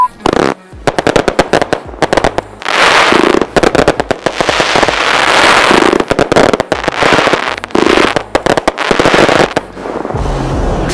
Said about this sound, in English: each of the 3 aerials in this set has a built-in multi-shot finale